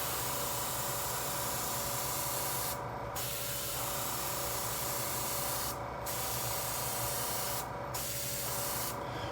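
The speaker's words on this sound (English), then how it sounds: "I'm spraying about 40 psi" A paint spray gun running at about 40 psi lays down paint on an RC touring car body, a steady close hiss that breaks off in several short gaps between passes.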